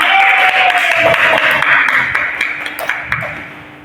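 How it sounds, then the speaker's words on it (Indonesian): Students in a classroom clap for classmates, a short burst of group applause that fades over a few seconds, mixed with a ringing tone and scattered background voices. "Nah, silakan tepuk tangan sama kawannya."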